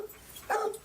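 A dog on a talk show gives a single short bark that rises briefly out of a quiet background and fades again.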